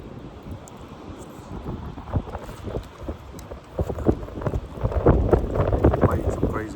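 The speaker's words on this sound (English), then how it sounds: "Might get some crazy wind right now too." Strong gusty wind buffets the microphone outdoors, rumbling steadily and swelling louder toward the end, with some voice activity mixed in.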